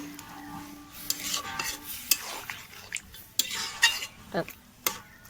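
Curry being stirred in a pot with coriander leaves and sliced green chillies, faint sizzling under scattered spoon scrapes and clinks against the metal.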